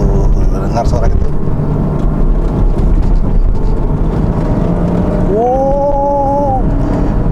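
A Porsche Cayman switched into Sport Plus mode gives a loud, deep rumble, and a rising whine climbs near the end as the engine revs.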